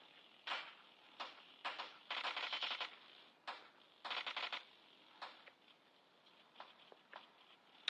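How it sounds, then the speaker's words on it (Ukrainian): Gunfire from the mobile battle-royale game PUBG Mobile comes in short, rapid bursts and single cracks scattered across the moment. The shots sound somewhat distant and thin against a quiet background. "Там чувак стріляє."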